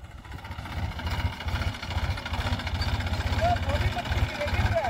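A tractor engine idles steadily with a low, throbbing mechanical rumble, fairly close and moderately loud, continuing for the whole stretch with faint background noise.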